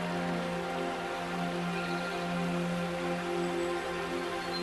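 Steady rain falls outdoors, a continuous even hiss of drops with no breaks, moderately quiet, alongside a constant low hum.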